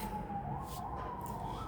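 An emergency vehicle siren wails steadily in the background through an open window, its tone wavering slightly, heard through ambient noise with no one speaking.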